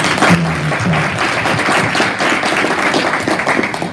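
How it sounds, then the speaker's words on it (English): An audience at a keynote event breaks into applause, a dense, steady wash of many hands clapping at close range that holds for the whole stretch, with a brief voice near the start. "So can we give Dr. Jackson a round of applause?"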